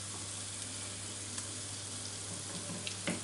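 Egg-dipped bread slices soaked in milk and anise sizzle steadily in a frying pan, a constant close crackle with a few small pops and no talking.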